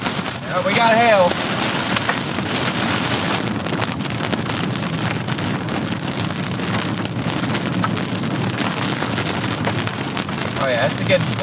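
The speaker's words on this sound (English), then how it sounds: "Yeah, we got hail." Hail and heavy rain pelting a storm chaser's vehicle during a Kansas storm, a dense, continuous patter with wind buffeting the microphone throughout.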